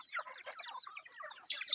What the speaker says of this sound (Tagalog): Yan ang mga native kong manok dito.